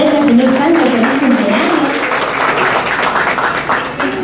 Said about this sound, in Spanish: vamos a recibir con fuertes palmas al señor Santos